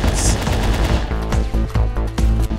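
Assault rifle fire in the fast-paced shooter game Nexum, heard as several loud, closely spaced shots with a few short bursts, and no talk.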